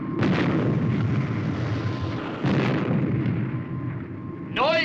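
Rocket jets of the Supercar firing with a sustained, loud roaring blast that surges twice and then cuts into a brief rising whine at the end.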